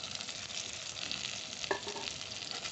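Drumstick leaves sauté in a pan with tomato and green chilli for an egg curry, giving a steady close sizzle, with one brief utensil knock partway through.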